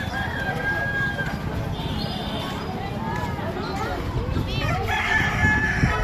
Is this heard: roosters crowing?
yes